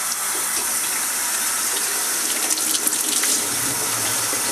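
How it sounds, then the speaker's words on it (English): Lukewarm tap water runs steadily from a faucet into a roughly one-gallon container for home-brew sanitizing, a constant close rushing stream with no talk. "Now we're going to fill it up with some water."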